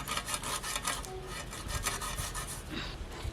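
Steady rasping, rubbing strokes as a fish is cut on a Tamil aruvamanai floor blade in a home kitchen, repeated scraping pulses that run continuously at close range with no talk.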